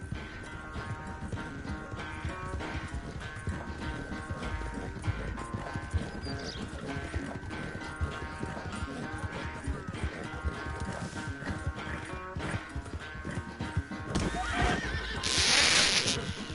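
A horse in Red Dead Redemption 2 gallops with rapid, steady hoofbeats under busy game music, then gives a loud, close neigh near the end.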